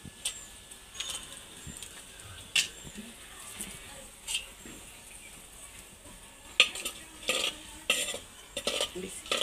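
Bay leaves, dried red chillies, cinnamon and cloves drop into hot oil in a pan, a soft sizzle punctuated by sharp metal spoon clinks and stirring knocks, close by, with brief speech.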